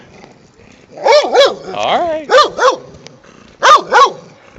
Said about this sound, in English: It's an odd looking dog.